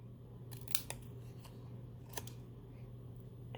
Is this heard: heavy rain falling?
no